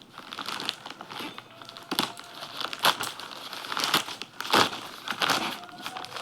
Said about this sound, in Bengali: সেটাই এখন তোমাদের সামনে আমি প্যাকিংটা খুলে দেখাবো আনপ্যাক করে দেখাবো